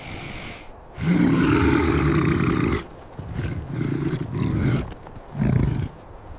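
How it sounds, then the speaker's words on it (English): A mother American bison on the open prairie lets out deep, loud bellowing roars: one long sustained call, then several shorter bursts in succession, with no talking. "She unleashes a deep earth-shaking bellow that echoes endlessly across the prairie"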